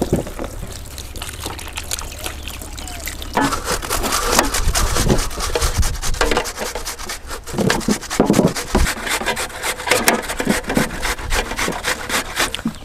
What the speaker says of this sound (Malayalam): കുമ്പളങ്ങ നമുക്കൊന്ന് കഴുകി എടുത്ത ശേഷം ഇതൊന്ന് ചെറുതായി ചീവി വെക്കാം